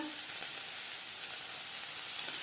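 Carrot and capsicum lightly frying in a pan give off a steady, even sizzle and hiss, close and continuous with a few faint stirring clicks, no voices.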